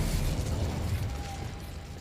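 An Expelliarmus spell cast in Hogwarts Legacy, a Harry Potter video game, comes through as a steady, rumbling magical blast with a crackling burst texture. It holds at an even loudness for about two seconds, with no talk over it.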